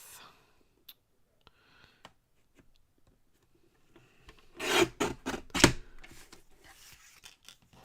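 A paper card trimmed on a craft trimmer: faint sparse ticks and clicks, then a short burst of rasping, sliding cuts near the end, quiet and close.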